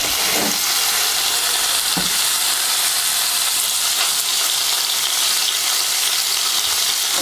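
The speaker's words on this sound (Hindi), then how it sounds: "अब इसमें इस तरीके से हमने पनीर को थोड़ा सा सॉटे करना है।" Paneer sautéing in hot oil over a high flame in a home kitchen pan, giving a loud, steady, close sizzle and crackle that runs unbroken throughout with no talking.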